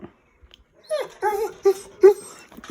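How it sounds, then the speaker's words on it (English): A dog begging for pizza gives a short series of soft whimpers and whiny yips, close by and fairly quiet, with brief pauses between the cries. "Did you bark for some pizza, Lewis?"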